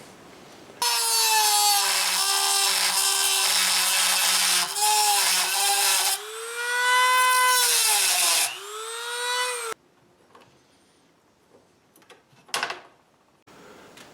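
A Dremel rotary tool cuts through an aluminum bar with a loud, close, high-pitched whine that dips and rises as the load changes over about nine seconds, then stops, leaving brief faint handling clicks.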